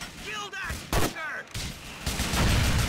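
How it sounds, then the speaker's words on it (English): Gunfire rings out in GTA: Episodes From Liberty City, with sharp reports and a dense burst of shots near the end, while someone talks and shouts over the top. "Reikia bandyti sniper rifle."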